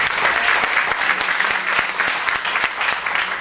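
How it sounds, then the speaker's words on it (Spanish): Steady applause from an audience at a short-film fundraiser event, dense clapping sustained throughout at even loudness, fairly close and with no talking over it. "Un aplauso para ustedes."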